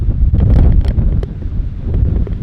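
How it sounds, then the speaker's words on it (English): Strong cyclone wind on a road trip between Queenstown and Glenorchy on New Zealand's South Island roars and buffets the microphone in a loud, continuous rush with no talking. "Can you hear the wind?"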